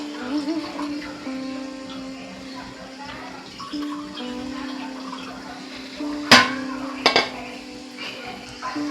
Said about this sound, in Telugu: చికెన్ ఉడికించిన వాటర్ వేసుకుంటున్నానండి